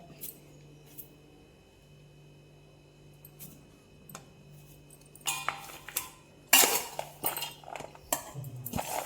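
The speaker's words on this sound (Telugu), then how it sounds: "ఇలా అన్నీ ఇలా చిన్న చిన్న ముక్కలు కట్ చేసుకుంటాను అంతా కొబ్బరి అంతా" A knife chops a mature fresh coconut into small pieces: a few sparse, sharp clicks at first, then busier knocks and scrapes near the end, fairly close, with no talking.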